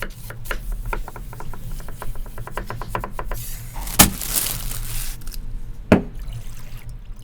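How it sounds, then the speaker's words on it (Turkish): Rapid knife chopping of an onion on a board, a quick run of regular taps that slows and stops, then a couple of louder clunks. "Soğanı ince doğrayın."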